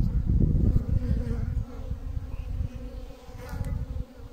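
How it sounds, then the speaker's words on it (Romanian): Honey bees buzz loudly near a hive in spring sunshine, leaving the hive for water; a dense close drone, strongest at first, then easing slightly. "avem un pic de soare și albinele sunt înnebunite după apă."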